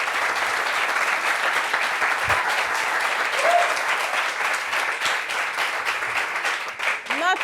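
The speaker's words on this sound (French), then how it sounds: "Ovation pour lui." Studio audience applause greeting a guest, the Live TV news presenter, at a French-language talk show: steady, dense clapping that holds throughout, with a few brief cheers near the end.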